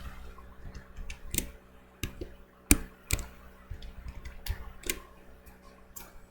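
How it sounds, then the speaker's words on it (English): Keys on a Mac keyboard, Command and Tab, are pressed repeatedly, giving sharp, irregular clicks and taps at close range with quiet pauses between them. "Just keep holding Command and Tab key to cycle through them"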